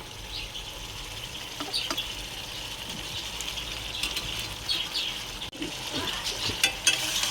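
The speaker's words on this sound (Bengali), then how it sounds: "এবার একটু আলুগুলো দিয়ে কষাই।" Potatoes fry in oil in a pan for a green chili chicken dish, giving a steady soft sizzle with occasional stirring scrapes and brief clatters, fairly close and unbroken by talk.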